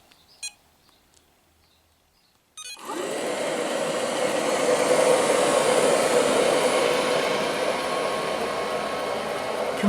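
After a near-silent moment, an Ilife V3s robotic vacuum starts up and runs with a loud, steady whirring hum, sweeping polystyrene beanbag beads across carpet.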